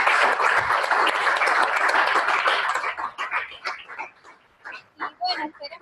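An audience at an educational talk gives a round of applause, dense and loud at first, then thinning into scattered claps under voices and chatter.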